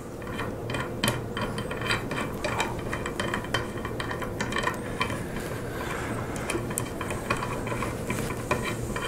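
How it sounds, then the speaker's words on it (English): A jam nut is worked off a modular clamping set, giving a steady run of metallic ratcheting clicks and scraping over a constant background hum, close and with no talking. "I'm actually going to take this jam nut off."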